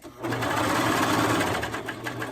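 A sewing machine runs steadily while stitching an elastic hem on a garment, a close, continuous whirring hum with a faint voice underneath.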